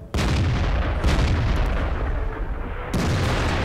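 Artillery fire in World of Tanks striking an enemy tank: a heavy booming shot opens, followed by sustained rumbling gunfire and a second loud burst near the end, all dense and close with no talking.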